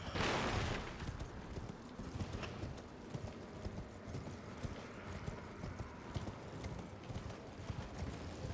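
Hooves of a horse galloping in the video game Elden Ring, a steady fast clip-clop rhythm running throughout, close and fairly loud, with a brief burst of noise at the start.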